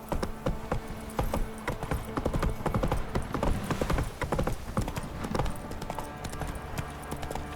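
Horse hooves clip-clop in a steady rhythm across the ground in The Witcher 3, loud and close, with scattered faint buzzing like insects in the background.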